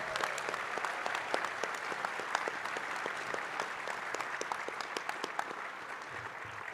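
Audience at a convention opening ceremony applauds steadily, a dense wash of many hands with sharp individual claps popping out close by throughout.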